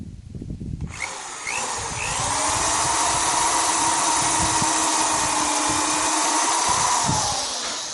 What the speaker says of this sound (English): So I'm pre-drilling all these.